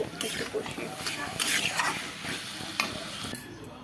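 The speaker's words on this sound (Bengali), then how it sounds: "এখন জল দিয়ে দেবো একটু কষিয়ে।" Spiced potatoes and peas for ghugni sizzle and hiss in a hot pan as water is poured in, with stirring scrapes and a soft voice talking close by.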